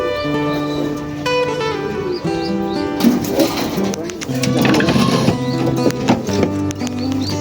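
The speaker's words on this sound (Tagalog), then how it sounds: "Sunod-sunod yung ibon natin." Racing pigeons arrive at the loft during a motor cup race, cooing and fluttering close by, with some faint movement and background noise mixed in.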